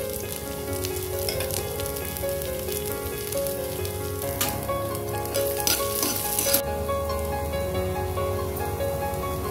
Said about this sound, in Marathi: पॅन गरम करत ठेवून पॅनमध्ये तेल घातलंय, थोडंसं 1 चमचा पळी तेल घातलंय आणि हे आता आपण ठेचलेलं आलं लसूण त्याच्यामध्ये घालूया